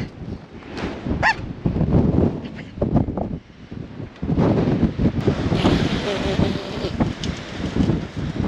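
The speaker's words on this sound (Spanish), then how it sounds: "como hay un montón de arena, pues el viento duele, o sea, es como si te pegaran rocas" Strong sandstorm wind roars and buffets the microphone near a van out in the open, with loud, continuous gusting throughout and a voice briefly heard over it.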